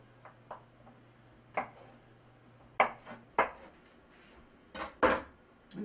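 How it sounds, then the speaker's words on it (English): A knife cuts about four tablespoons of cold butter into small pieces on a board, making a series of separate sharp taps and thuds at an uneven pace, close and fairly clear against a quiet background. "So I've got some cold butter, about 4 tablespoons. I'm going to cut it up into little pieces."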